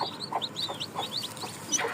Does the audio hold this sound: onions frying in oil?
no